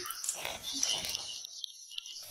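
A dog whimpers softly from a hallway, thin high whines and yips over a short stretch that fade into near silence.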